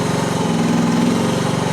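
A Chinese mini skid steer's engine revs up loudly and steadily close by, a continuous rough mechanical drone with a slight rise in pitch and no talking.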